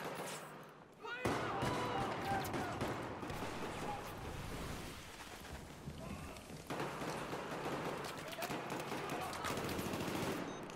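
Gunfire in Battlefield 4, dense bursts of rapid shots and clatter filling the scene, briefly thinning before resuming, under a busy game soundscape.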